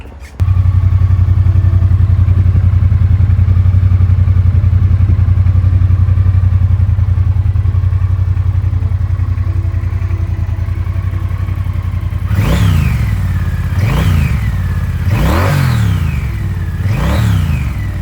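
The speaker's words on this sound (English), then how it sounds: "here is the exhaust note on the T120 Black" A 2026 Triumph Bonneville T120 Black idles with a deep, steady exhaust rumble, then revs sharply four times in a row, each rise falling back quickly.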